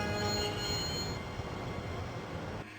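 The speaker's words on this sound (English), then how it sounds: "Okay, yeah, I can stop the train." Steady broadband rumble of a train slowing toward a stop in the 1996 game Broken Sword: The Shadow of the Templars, with faint high squealing tones over a dense low roar that drops off abruptly near the end.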